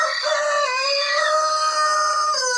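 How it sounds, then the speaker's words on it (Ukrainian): Several roosters in a warm henhouse on a frosty day crow together in overlapping, drawn-out calls, loud and close, with no talking. "О, як усі дружно розспівалися півники."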